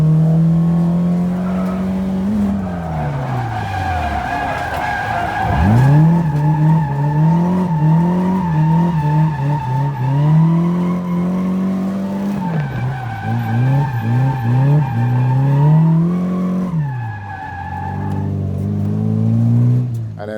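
Lexus SC300 cars drifting at a drift event, loud engines revving up and down with long, wavering tire squeals and skidding, close and continuous with repeated surges in pitch.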